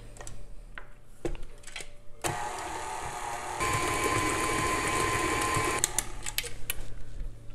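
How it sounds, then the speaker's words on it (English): Electric hand mixer beating chocolate cookie dough, a loud buzzing whir lasting about three and a half seconds between quieter clicks and knocks of the bowl and beaters. "And we will mix this together again."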